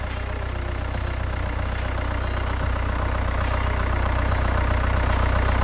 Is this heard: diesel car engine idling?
yes